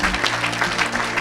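A church congregation bursts into applause for Jesus during a deliverance service, a dense, steady wash of many hands clapping close and loud from start to finish, with no clear talking over it.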